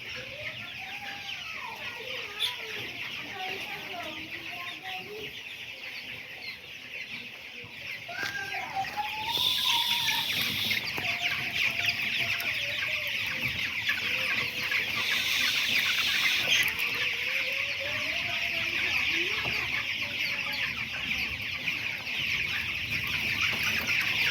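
Broiler chickens on a small farm cluck and chirp continuously, many birds close by at once, over a steady background hum that grows louder partway through.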